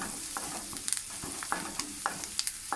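Onions and green chillies fry in oil with turmeric and curry leaves, a steady close sizzle broken by regular scraping stir strokes about every half second, with no talking.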